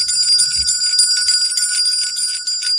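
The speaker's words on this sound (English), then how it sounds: "So just listen to the sound of the bell." A bell rings with a bright, sustained metallic tone that hangs steadily throughout, loud and close, with no voices.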